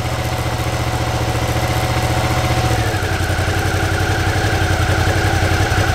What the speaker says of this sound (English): when I release the clutch, the wheel is turning, and as soon as I grab the clutch, it should stop fairly quickly